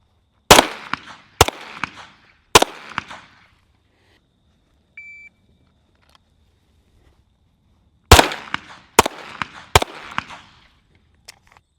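Pistol shots crack sharply on an outdoor range during a walking 25-to-15 qualification drill. There are two groups of three loud shots, each followed by a brief echo, with a quiet pause and a faint beep in between.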